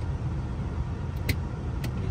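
Car being driven during a driving lesson, heard from inside as a steady low engine and road rumble, with a couple of faint brief clicks over it.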